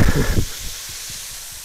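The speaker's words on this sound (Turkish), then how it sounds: "gaz yanıyor" A gas stove flame hissing while hamburgers are cooked in a home kitchen, a steady broadband rush heard close up, with a louder rumbling burst at the start that settles into an even hiss.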